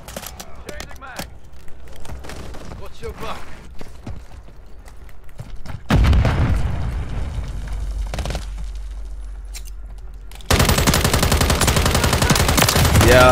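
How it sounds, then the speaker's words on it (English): Rapid automatic fire from a gun in Call of Duty MW3 multiplayer rattles in loud, dense bursts, swelling heavier in the second half, with sporadic game effects and talk over it. "Oh my God, the recoil on this gun is crazy."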